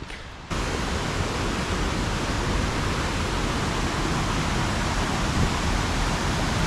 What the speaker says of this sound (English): I'm gonna go check out this waterfall.